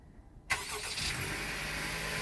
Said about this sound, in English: It has remote start.